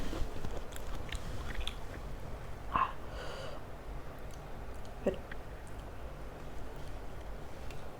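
A person chewing and eating food at close range, with soft wet mouth sounds, a few crunchy bites and occasional breaths over a quiet room.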